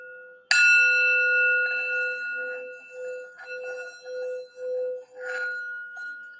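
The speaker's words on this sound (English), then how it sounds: "I just wanted to do the sound bell real quick to help focus our energy here" A single bell is struck once and rings out clearly, its bright tone fading slowly over several seconds with a pulsing shimmer.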